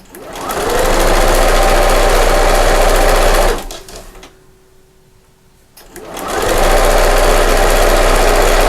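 A sewing machine stitches a fabric cover in two loud, fast, steady runs separated by a pause of a few seconds, the motor whirring close by.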